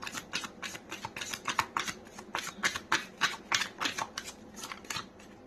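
Tarot cards are riffled and shuffled close by in a quick series of about a dozen crisp, papery flutters, quiet and steady over a few seconds with no talking.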